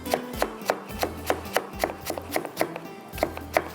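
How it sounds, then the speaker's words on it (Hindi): A knife chops onions on a cutting board in a home kitchen, making a quick, even series of about a dozen light, crisp taps close by. The taps are fairly quiet, with no talking over them. "थोड़ा चॉप करते हैं"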